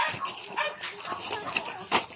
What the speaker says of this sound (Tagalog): Ang ingay ng aso kaya hindi ako makapag hindi ako makapag-focus.